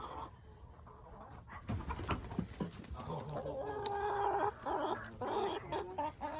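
Chickens cluck and squawk close by, a busy stretch of repeated clucking with some rustling and panting mixed in.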